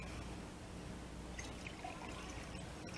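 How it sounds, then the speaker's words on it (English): Water being poured into a row of drinking glasses, each filled fairly high, with a steady close trickle running continuously and no talk. "I'm only going to put water in every other glass, and you want to fill it up pretty high"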